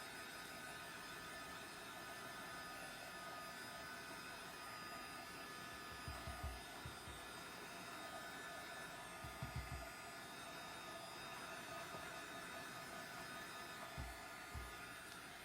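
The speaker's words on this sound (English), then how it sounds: "My noisy little heat gun here." A small, noisy heat gun blows steadily as it dries a craft layer, a continuous airy whir with a few low thumps partway through, heard close and alone.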